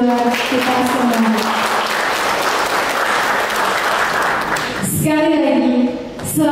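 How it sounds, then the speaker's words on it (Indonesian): Applause from a school gathering welcoming alumni of the 1989 class of Perguruan Wahidin in Bagansiapiapi, steady clapping under a voice speaking over it, continuing throughout at moderate loudness. "Tepuk tangan buat kita semua."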